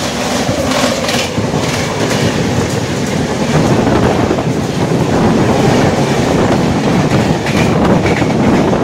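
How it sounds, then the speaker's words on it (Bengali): Tista Torsa Express passenger train running on rails in West Bengal, a steady loud rumble of wheels and carriage with clickety-clack and wind buffeting throughout, no pauses. "এবার আমাদের ট্রেন এসে পৌঁছলো নিউ ময়নাগুড়ি"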